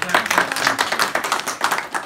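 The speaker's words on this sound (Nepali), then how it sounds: "Wow, ताली" An audience at a memory demonstration breaks into sustained applause, a dense, even patter of many hands clapping close and loud, with voices mixed in.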